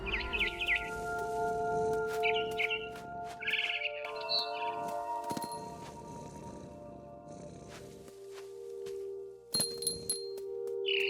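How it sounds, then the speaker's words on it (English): A barn swallow chirps in the video game What Remains of Edith Finch, with short high twittering bursts over a quiet, sustained game soundtrack, with a brighter chirp toward the end. "It was a barn swallow going back to her nest."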